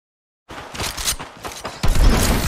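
Gunfire in the battle royale game Apex Legends, with a burst of rapid shots after a moment of silence and then heavier booming fire toward the end, loud and close.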